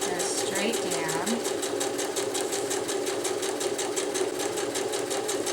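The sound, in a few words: sewing machine stitching straight down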